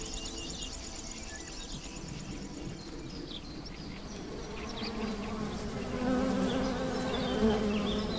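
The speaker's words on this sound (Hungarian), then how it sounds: "hogy a méhek mennyi nektárt tudnak gyűjteni" Honey bees buzzing as they gather nectar from spring blossoms at an apiary, a dense, steady drone of many insects that grows slightly louder toward the end, with no voices.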